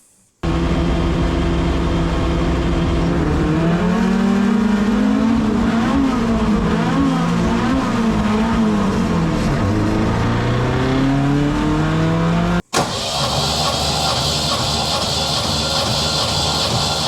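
A Ford Sierra race car drives at speed, its loud engine rising and falling in pitch through repeated gear changes over about twelve seconds before an abrupt cut to a different, steadier engine roar.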